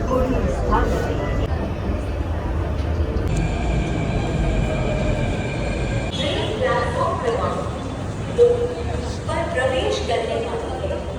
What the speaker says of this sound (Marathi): आता आम्ही घाटकोपरला मेट्रोमध्ये बसलो आहे